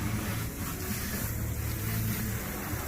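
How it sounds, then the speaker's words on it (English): Water sprayed down over a boat during detailing, a constant hissing rush with a low rumbling undertone that runs steadily without pause for about three seconds, close and fairly loud. "we're spraying it down with some water"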